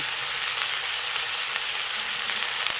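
Ground cumin, chili powder and salt fry in hot oil for a parshe fish curry, a steady, close, hissing sizzle that continues evenly throughout with no speech.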